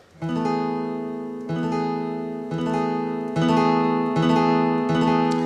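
A guitar chord strummed repeatedly, ringing with sustained harmonics, about four strums with short gaps, played alone and fairly loud.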